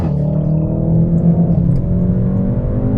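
A VW Golf R accelerates hard while chasing a BMW M2, its engine a steady droning roar with gear changes and rising tones, heard loudly from inside the car.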